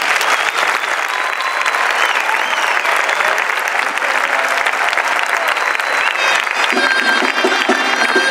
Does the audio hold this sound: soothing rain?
no